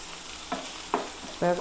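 Prawns fry with shallots, ginger, garlic, green chili and tomato in a hot pan, under a soft sizzle broken by three distinct scraping stirs of a spatula, each a little louder than the last.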